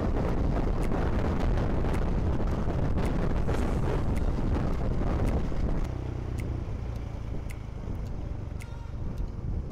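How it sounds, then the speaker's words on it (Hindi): Cold wind rushes past on a motorcycle ride between mountains on the Kargil to Leh road near the Indus River, a loud, constant roar buffeting the microphone that eases slightly toward the end, with no voices. "पहाड़ों के बीच से गुजरती हुई ठंडी हवा"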